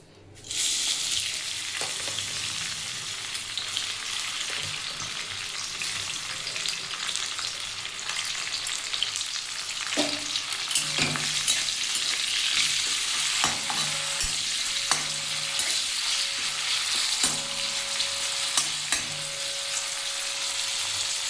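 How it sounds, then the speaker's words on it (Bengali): Cashews and raisins fry in hot ghee in a wok, giving a steady, close sizzle with occasional stirring clicks and scrapes, no voices, throughout. "এই ঘিয়ের মধ্যে আমি আগে কাজু কাজু কিশমিশগুলো একটু ভেজে নেবো"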